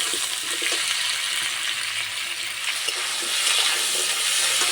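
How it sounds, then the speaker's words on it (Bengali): Potatoes and chopped tomato frying together in a pan for a vegetarian potato and pointed gourd dish, giving a loud, steady close-up sizzle with faint stirring scrapes and no talking. "আলুর ওপরে টমেটো কুচি দিয়ে দেবো। একসঙ্গে ভালো করে ভেজে নেব।"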